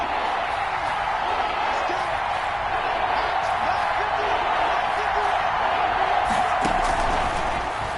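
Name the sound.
crowd cheering in a football video game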